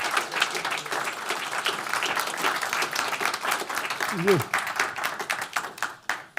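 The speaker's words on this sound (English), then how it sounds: "please give these panelists a great round of applause" Sustained audience applause filling the room, dense clapping throughout with a brief voice rising above it midway.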